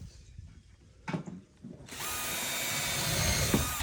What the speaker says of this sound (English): Then we've got this piece up here that countersinks it so that the head of the screw drives in